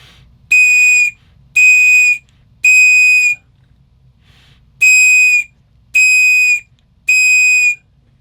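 A survival whistle paired with a ferro rod is blown in six loud, shrill blasts, three in quick succession, a brief pause, then three more, each about half a second long.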